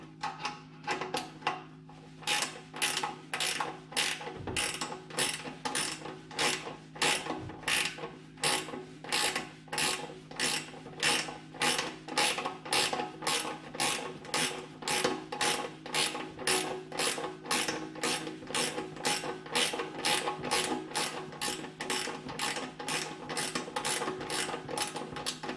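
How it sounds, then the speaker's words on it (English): Ratcheting wrench backing out a 10mm bolt on a snow blower, a steady close run of crisp rapid clicks in even rhythm, repeated stroke after stroke for the whole stretch. "I'm gonna have to use a ratcheting wrench."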